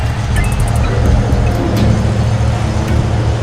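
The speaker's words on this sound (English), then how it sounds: "starts the lawnmower, so apologize for the noise" A lawnmower runs in a home garden, a loud, steady low engine drone that fills the whole clip with no break, with faint higher clicks and no talk over it.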